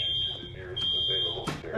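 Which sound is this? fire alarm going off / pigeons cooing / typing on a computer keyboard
fire alarm going off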